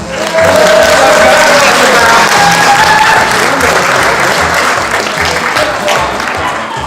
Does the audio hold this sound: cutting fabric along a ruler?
no